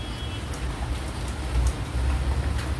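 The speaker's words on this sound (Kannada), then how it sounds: "ಲೈಟ್ ಹಾಕಿದ್ರೆ ಎಷ್ಟು ಚೆನ್ನಾಗಿ ಮಳೆ ಕಾಣಿಸ್ತಿತ್ತು." Heavy rain falls outside a home in a steady, dense wash with a low rumbling undertone. The rain is continuous and fairly loud throughout, with no clear break.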